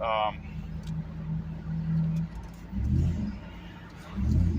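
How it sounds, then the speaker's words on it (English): A Hemi Ram truck engine fitted with a K&N cold air intake rumbles low and steady, then swells in two short revving pulls near the end, loud and close. "You could hear the intake pretty good there."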